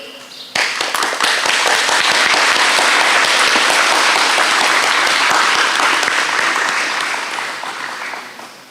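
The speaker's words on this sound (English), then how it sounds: "can we please give another warm round of applause to the Year 11s for a job very well done" Warm audience applause at a school awards ceremony for IGCSE students, bursting in suddenly and holding as a loud, dense roar of clapping before tapering off at the end.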